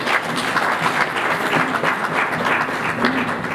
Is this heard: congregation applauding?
yes